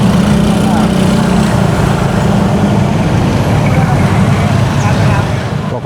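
Road traffic noise from a jam of vehicles near Trawas on a busy holiday, a loud steady engine rumble and drone heard close up from a moving motorbike, holding even throughout before easing slightly at the end.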